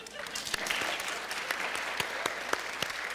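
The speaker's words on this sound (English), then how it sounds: "How many of you clap if you think that we are just a projection?" An audience in a lecture hall claps in response to a poll question, a steady wash of applause with a few sharper individual claps standing out, moderately loud and continuous.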